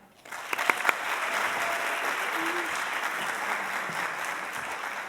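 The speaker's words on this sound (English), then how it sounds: "Now please help me give a round of applause for Cara." An audience applauds a speaker at a talk event, steady clapping rising after a brief start and holding at even loudness throughout, with no voices over it.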